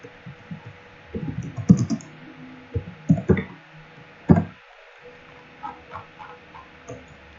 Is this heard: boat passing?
no